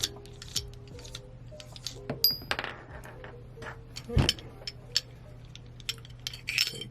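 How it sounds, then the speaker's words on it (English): A threaded barrel is worked out of a Taurus G3 Tactical handgun, giving scattered close metallic clicks, light scrapes and a few sharper clinks of parts handled at a bench, irregular and without talk. "So we're gonna take this out, unthread the threaded barrel."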